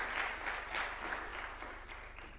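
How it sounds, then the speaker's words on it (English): Faint, distant clapping from an audience at a Kenyan State House event, greeting the ODM party leader with a steady spatter of hands throughout. "Could we clap for the party leader of ODM as he comes?"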